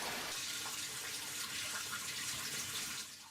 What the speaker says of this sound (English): The water is just draining out of one of the grow beds, and then it gets pumped back into this fish tank